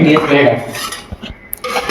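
Close clatter of dishes and utensils knocking together, with sharp clinks and scraping in quick, irregular bursts.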